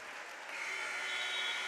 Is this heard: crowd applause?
yes